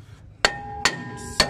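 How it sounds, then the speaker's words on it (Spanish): Three light, sharp metallic hammer taps on a car's rear brake drum to loosen it, evenly spaced with ringing decay, close and alone in a quiet workshop. "vamos a dar un golpecito leve para que nuestro tambor"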